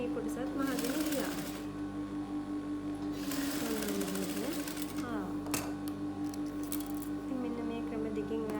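A sewing machine stitching a saree blouse piece over an attach thread, running in steady rhythmic bursts with short pauses, close and clear over a constant hum, while someone talks throughout.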